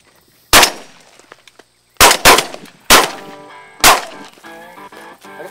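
A Weatherby 20 gauge shotgun fires at doves on an outdoor hunt. Five sharp, loud reports come close by at uneven intervals, two nearly back to back, each trailing off in a short ringing decay.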